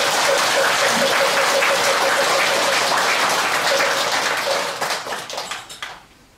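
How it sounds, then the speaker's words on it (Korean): Applause from a temple congregation at Gilsangsa after a dharma talk by the monk Hyeonjang, a loud dense burst of clapping that holds steady for several seconds, then thins out and stops. "귀한 말씀을 해주신 현장 스님께 감사의 큰 박수 다시 부탁드립니다"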